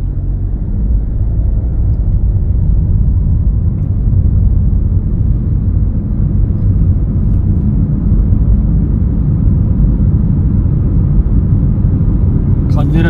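A car sets off from a stop during a road driving test at a licence test centre. A loud, steady low engine and road rumble runs throughout, heard from inside the cabin.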